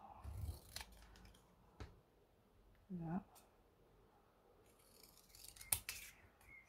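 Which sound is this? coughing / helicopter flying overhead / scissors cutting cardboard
scissors cutting cardboard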